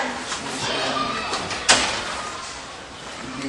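A door shuts with a single sharp knock partway through, set among indoor voices and movement as people talk nearby.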